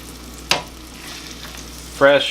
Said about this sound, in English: Let's throw these in. Oh yeah. It sounds like it's already cooking.